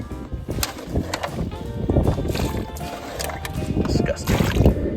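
Water is bailed by hand with a bottle out of a small Gheenoe boat: irregular scooping splashes and sloshes, close and fairly loud, in bursts across the clip.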